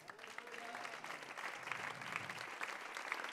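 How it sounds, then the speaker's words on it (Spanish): A church congregation applauds during a Spanish-language service, a faint, steady patter of clapping heard at a distance. "Y dan un aplauso a su palabra."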